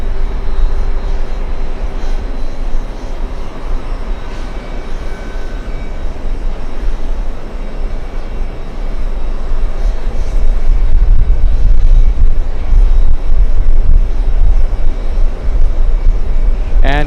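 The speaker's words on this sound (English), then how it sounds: "We have the big American 787, American 235 flying in from Rome" An American Airlines Boeing 787 arriving from Rome at JFK Airport makes a low, broad engine rumble that swells over the second half, loud and steady from nearby.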